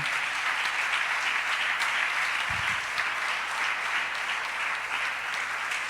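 A church congregation applauds steadily during a Spanish-language sermon, dense even clapping sustained throughout with no voices over it.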